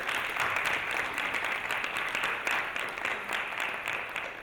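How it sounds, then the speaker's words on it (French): Audience applause at an investment fair panel, a steady dense clapping from a crowd, fairly loud and continuous with no talk over it. "On va les applaudir."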